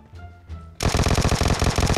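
Vector submachine gun fire in PUBG Mobile: a dense, rapid burst of loud, close automatic shots that bursts in after a brief quieter moment and keeps up a fast, even rhythm to the end.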